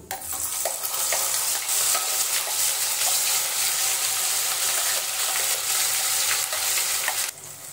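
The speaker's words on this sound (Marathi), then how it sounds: "इथे आपण ग्रेव्ही 2 मिनिटं परतून घेतलेली आहे." A puree gravy of onion, tomato, red chili and cashew with asafoetida sizzles and fries steadily in a pan for several seconds, with faint stirring scrapes throughout.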